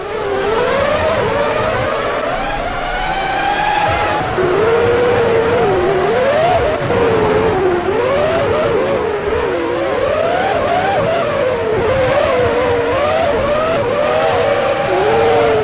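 Formula One race cars screaming around the Monaco street circuit in the Formula One 2003 PlayStation 2 game, high-pitched engines rising and falling through gear changes, loud and continuous with overlapping cars passing.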